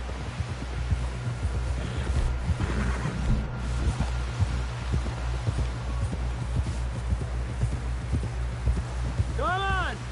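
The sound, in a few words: horse galloping in video game Red Dead Redemption 2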